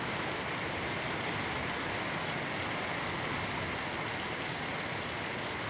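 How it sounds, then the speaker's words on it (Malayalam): Constant dense rain hisses without a break, an even, enveloping roar with no voices, in Pathanapuram. "മഴയും തകൃതയും നടക്കുകയാണ്"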